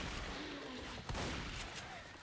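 Rapid gunfire from survivors shooting zombies in Left 4 Dead 2, a steady barrage of overlapping shots under a busy, noisy game mix, with a few sharper cracks standing out.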